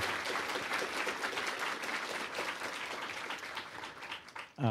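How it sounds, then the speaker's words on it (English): An audience at a fireside chat applauds steadily, a dense wash of clapping from many hands that holds strong and then starts to thin out at the end. "So a big round of applause for Rose, please."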